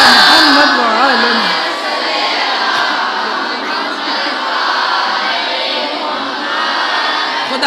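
A large crowd at a Shia majlis in Husainia Baitul Huzn, Dulhipur, loudly chants a religious slogan in unison, a sustained roaring wash of many voices that carries steadily throughout.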